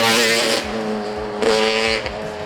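A Lambretta-style scooter fitted with a Yamaha RD350 two-stroke engine approaches and blasts past loud and near, its high buzzing rev rising, dipping, then surging again before fading.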